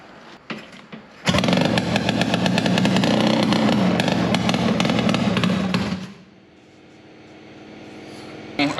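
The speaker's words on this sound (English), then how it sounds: "Go kick this thing over." A 1974 Suzuki T500 two-stroke motorcycle fires up after a kick, its engine roaring loud and steady for about five seconds before cutting back to a low rumble.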